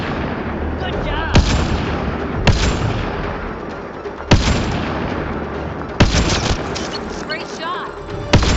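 Sharp, loud shots crack out every second or two amid the steady rumble of a sci-fi firefight in the video game Mass Effect Andromeda, with voices briefly calling out over the battle.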